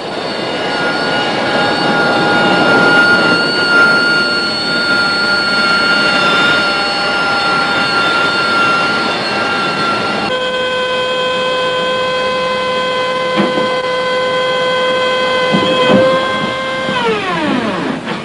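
A loud Harrier jump jet engine roars with high-pitched whining tones, the pitch shifting midway and then sliding downward as the engine spools down near the end.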